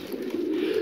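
Domestic pigeons in breeding season coo up close on a loft floor with chicks, a single continuous low throaty burble lasting under a second.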